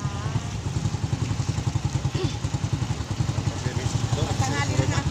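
A motorcycle engine putters with a rapid, even pulse close by, idling and ticking over under casual conversation.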